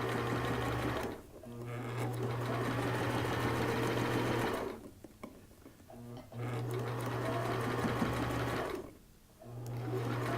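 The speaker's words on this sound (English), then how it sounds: "So I'm using that presser foot as a guide again, and we're just going to sew right up to that 1 inch opening." A sewing machine stitches a seam on a turban for cancer patients, running in three long steady whirring bursts with short pauses between, close and loud.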